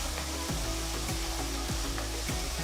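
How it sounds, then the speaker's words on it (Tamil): Small chopped shallots sauté with fennel seeds in about two tablespoons of hot oil in a kadai, a steady close sizzle with periodic scraping stirs roughly every half second, no talking. "கடாயில் 2 டேபிள் ஸ்பூன் எண்ணெயை ஊற்றுங்க. இதில் 1 டீஸ்பூன் சோம்பு போட்டு அடுத்து ஒரு 25 சின்ன வெங்காயம் பொடியாக நறுக்குனதை சேர்த்து வதக்குங்க"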